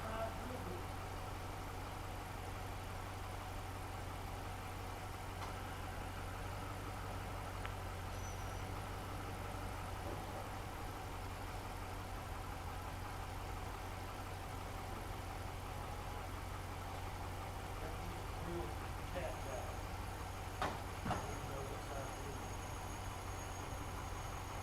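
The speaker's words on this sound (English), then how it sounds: "Sounds like a diesel." An Audi engine with a misfire idles steadily, a constant low mechanical drone with a faint diesel-like knock, heard close and unchanging for the whole stretch.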